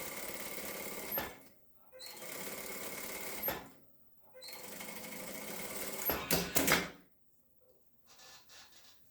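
A home sewing machine with a 0.75 presser foot stitches dark and light patchwork fabric strips in three bursts of rapid, even whirring, each stopping abruptly, with a short clatter of handling before a quiet tail; close and clear.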